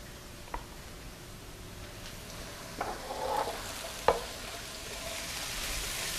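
Onion and red pepper in a pan for a homemade meatball sauce, a faint low sizzle running throughout with a few sharp scrapes and taps of a utensil stirring the vegetables.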